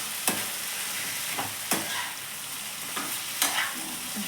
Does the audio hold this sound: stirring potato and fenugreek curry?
yes